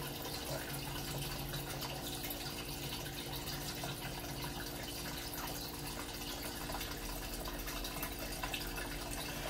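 Water runs steadily into a vintage 30-year-old General Electric GE Spacemaker portable washing machine, a faint, continuous hiss and trickle of filling with no pauses.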